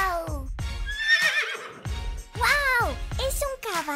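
A toy horse lets out several bright, wavering neighs and whinnies in quick succession, loud and near, with voices mixed in between them.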